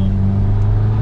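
A car engine drones steadily and close after a downshift into second gear, its low, even hum sustained without a sharp rev spike and with no voices present.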